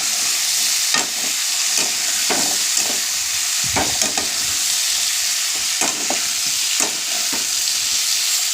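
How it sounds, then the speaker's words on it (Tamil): Tomatoes frying in a pan, with a steady close hiss of sizzling oil broken by repeated scraping strokes of a spoon stirring them, no talking. "இதை வந்து நல்லா கிண்டிக்கலாம். தக்காளி வதங்குற வரைக்கும் நம்ம வந்து இது போடக்கூடாது."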